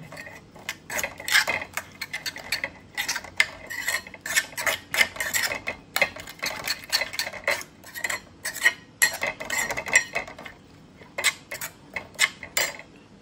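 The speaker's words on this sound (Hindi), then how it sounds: "अभी इसको अच्छे से मिक्स करेंगे" A metal spoon mixing a thick fish marinade paste in a bowl, giving a steady run of close, sharp clinks and scrapes in quick irregular rhythm with brief pauses, with no talking over it.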